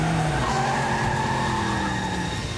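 A car accelerates hard with its tires skidding and squealing, the loud screech and engine roar sustained and close for the whole moment, with no talking.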